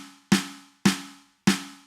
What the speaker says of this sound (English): is a snare drum sound